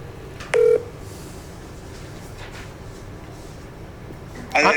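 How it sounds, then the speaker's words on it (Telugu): A phone call being placed: a short beep of a dialing tone near the start, then a quiet stretch, and a brighter ringing or tone burst at the end, heard close and clear. "రాజాబోడు అన్న కూడా మళ్ళీ ఒకసారి ఇంకో కాల్ చేస్తున్నాడు"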